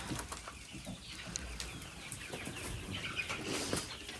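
Chickens and a rooster in a coop on a sleety, snowy morning, with scattered clucks, rustling and wing movement close by under a steady background hiss, no one talking.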